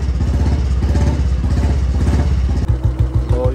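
A Royal Enfield Bullet motorcycle engine runs near and loud with a steady deep thumping idle, its rhythmic beat shifting briefly near the end as the revs change, heard without talk.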